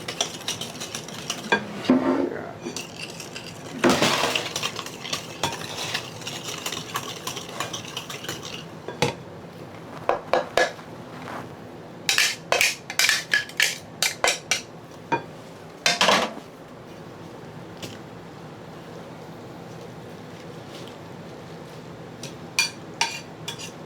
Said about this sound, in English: I'm gonna mix until fully combined, and then we're gonna add in our carrots